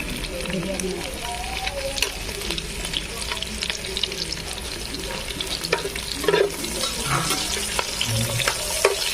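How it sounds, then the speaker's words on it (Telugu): Whole spices — bay leaf, cinnamon, cloves and cardamom — sizzle and fry in hot oil for a village-style chicken dum biryani, a steady close crackle with occasional stirring clinks and a voice talking over it. "ఇందులో మసాలా యాడ్ చేసుకుందాం బిర్యానీ ఆకు మరాఠీ మొగ్గ దాల్చిన చెక్క లవంగాలు యాలపండు వేసుకున్నాం"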